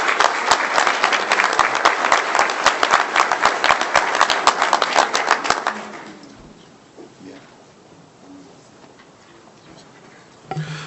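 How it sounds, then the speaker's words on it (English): A burst of audience applause for student performers at a board meeting, loud and dense, fades out abruptly after about six seconds, leaving a quiet room with faint scattered noises. "please give our amazing student performers one round of applause, and for Mr. and Mrs. McBride"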